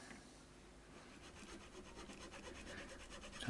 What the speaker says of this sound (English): So just trying to use the correct nut file to round out the shape at the bottom